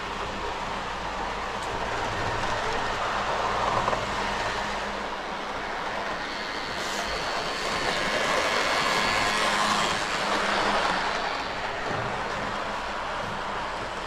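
Model DB 152 electric locomotive running on its rails at higher speed, a continuous close mechanical whirr and wheel rumble with gentle swells in loudness, no voices.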